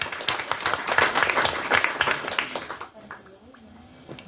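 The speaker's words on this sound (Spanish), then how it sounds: "para también quien pido un fuerte aplauso" Audience applause at a conference on preventing adolescent pregnancy, a strong burst of clapping for about three seconds that stops abruptly, leaving quiet room tone with faint sounds.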